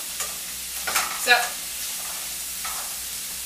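Vegetables for a shepherd's pie fry in a pan on a stove burner, a soft sizzle under a few stirring scrapes, with someone briefly speaking over it.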